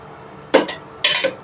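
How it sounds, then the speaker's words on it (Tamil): A metal spatula scrapes and clatters against a pan twice while chicken is stirred for a curry, two short bright bursts close by with quiet between them. "சிக்கன் நல்லா ஜூஸியா வர வரைக்கும் நல்லா கிண்டி விடுங்க"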